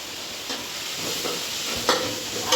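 Food sautéing in a pan for an Onam meal, a steady close sizzle with light stirring scrapes and small crackles throughout, no voices.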